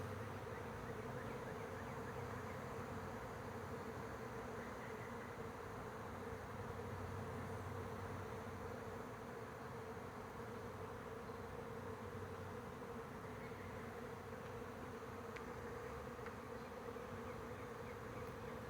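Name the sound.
bees buzzing in a large beehive in a tree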